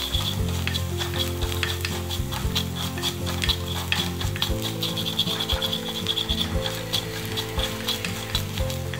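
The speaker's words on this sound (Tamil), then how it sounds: "மசாலா நல்லா வதங்கிடுச்சு." Masala for a Tamil garlic gravy (poondu kuzhambu) sautéing in a pan, a close, steady sizzle and crackle of oil with occasional stirring, continuous throughout with no talk.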